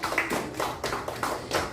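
A short burst of clapping welcomes the department head at a Korean church school gathering, a few hands tapping unevenly and close for under two seconds, with no talk over it.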